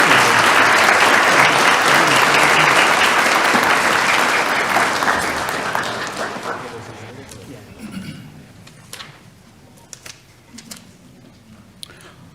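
Loud applause from attendees at a city council meeting fills the room for several seconds, then thins and fades out to a few scattered claps and faint room sounds.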